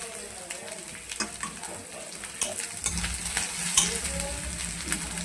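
Hot tempering poured into cooked rice sizzles softly while a spoon stirs and scrapes, with intermittent clinks and light frying crackle close by, fairly quiet overall.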